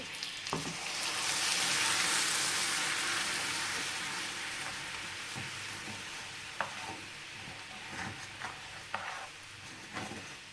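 A loud, steady sizzle swells as water is poured little by little into hot caramel for caramel kheer, then slowly settles into softer bubbling with a few light clinks.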